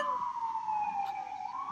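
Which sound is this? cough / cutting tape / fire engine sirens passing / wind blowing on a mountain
fire engine sirens passing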